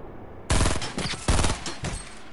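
Loud, sudden gunshots burst out in a shooter game after a short quiet, with three or four separate sharp bursts in quick succession, each trailing off briefly, heard alone without voices.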